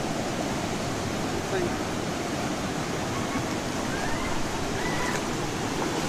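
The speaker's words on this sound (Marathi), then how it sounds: "हा आमचा धबधबा आहे" Somnath waterfall, a steady broadband roar of rushing water filling the whole stretch without a break, close and loud, with no clear speech.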